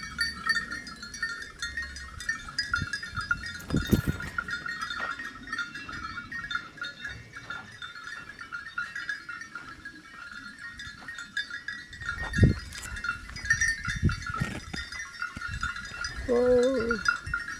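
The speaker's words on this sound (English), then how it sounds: "These are Maasai goats, as you can see, and there are so too many." Maasai goats graze in an African village, with occasional bleats and a clanking bell sounding amid outdoor ambience, faint chatter and scattered rustling across the whole stretch.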